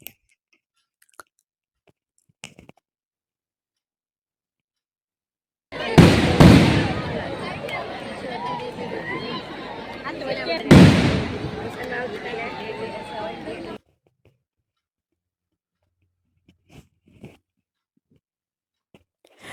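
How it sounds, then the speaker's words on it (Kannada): Fireworks burst overhead at the Karkala lamp festival, a lakeside Deepotsava celebration in 2024: a dense crackling roar of about eight seconds with two sharp louder blasts, set between quiet stretches of faint distant pops. "ರಂಗಿನ ಪಟಾಕಿಗಳ ತೇರು"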